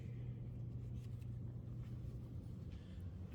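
A 1957 Buick Century Convertible's engine idles with a steady, low rumble close by, a constant droning hum running smoothly the whole way through with no pauses.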